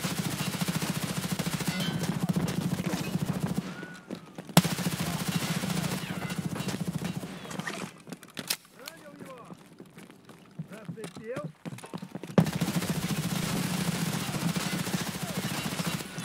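Gunfire in the video game Escape From Tarkov, loud dense bursts filling the opening and closing stretches, dropping to quieter ambience in the middle, with someone talking over parts of it.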